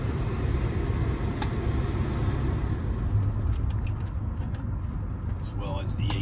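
A 1995 Mercedes-Benz E320 with about 29,960 miles drives and accelerates, giving a steady low engine and road rumble from inside the cabin, with someone talking over it.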